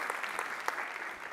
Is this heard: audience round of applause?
yes